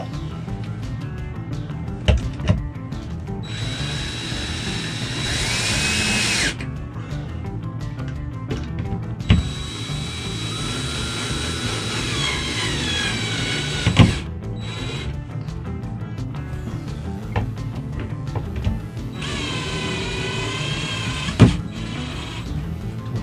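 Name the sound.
power drill on slow setting driving screws into shelf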